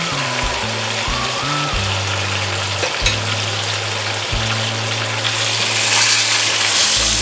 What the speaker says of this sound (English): So you want to sear each side of these steaks